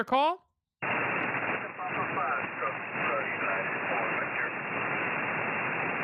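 Weak amateur ham radio signal buried in steady static hiss on a receiver in Arizona, a brief tone then a continuous band-limited noise floor with faint voice-like fragments barely rising above it.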